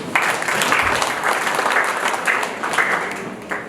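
Audience applause at an event, a steady wash of many hands clapping that holds throughout at fairly close, even loudness.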